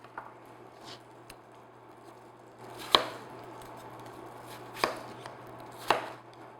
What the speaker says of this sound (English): I just cut on either side of the core, like so